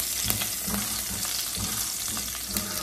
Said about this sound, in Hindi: थोड़ी सी ग्रीन चिली और कड़ी पत्ते। जैसे ही ग्रीन चिली थोड़े फ्राई हो जाए ना इसके अंदर